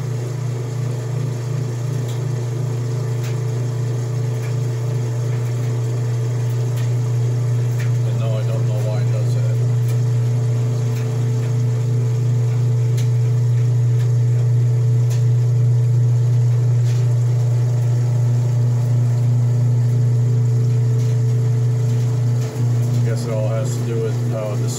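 An old washing machine drains after a load with a steady loud motor and pump hum, constant and close for the whole stretch, while a person talks over it at times.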